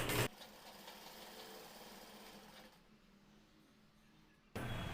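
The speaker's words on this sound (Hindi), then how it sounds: "थोड़ी छोटी टाका से सिल रहा हूँ इसको।" A sewing machine runs a line of small stitches along a kurta placket, giving a steady mechanical whir that drops quieter midway before a louder burst returns at the end.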